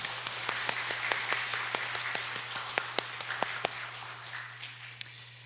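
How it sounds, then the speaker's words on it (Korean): Scattered hand claps ring out across a church sanctuary during a service, sharp individual claps over a steady hum, thinning toward the end. "다시 한번 우리 하나님께 영광의 박수 올려드리겠습니다."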